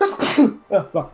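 A single loud, sharp sneeze bursts out at close range, followed right away by a brief spoken exclamation.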